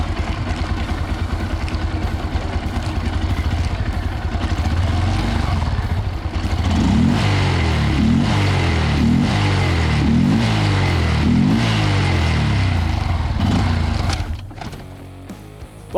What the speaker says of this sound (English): So Mark, if you want to pop it in first gear and see how she rides.